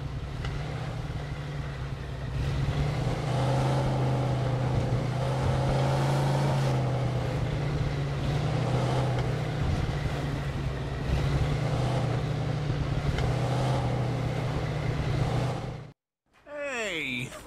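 A car drives in the video game Mafia II, its engine a steady close drone that rises and falls with the revs, then cuts out briefly near the end before resuming.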